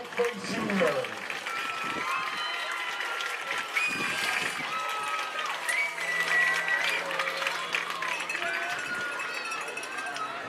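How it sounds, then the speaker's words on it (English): Crowd applause at a high school football game, a steady wash of clapping and cheering that runs throughout, with a man announcing over a public-address system on top of it. "let's give a nice round of applause to the 2025 Fighting Whiteface Seniors."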